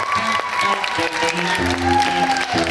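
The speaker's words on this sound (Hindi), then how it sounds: "आपकी जोरदार तालियों में लेट्स इनवाइट शेजल शौकत।" Studio audience applause on a talk show greets an arriving guest, steady clapping mixed with a musical sting and tonal band stabs for nearly three seconds, fairly loud and continuous.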